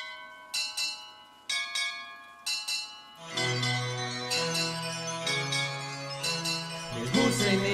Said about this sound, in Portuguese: Mesmo sem nenhuma finalidade, parece ser bem legal tocar os sinos.